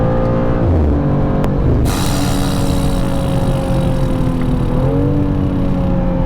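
A BMW M2 engine drones steadily at close range, with pitch sliding and dropping as the gears change, then a sharp burst of higher engine noise and a continuous rumble.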